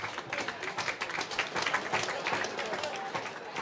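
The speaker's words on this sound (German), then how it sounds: "Einen herzlichen Applaus für unsere Alphörner in Altjahre." An audience claps for alphorn players at an outdoor Swiss folk gathering, a moderate, fairly even patter of hands that continues for a few seconds without voices over it.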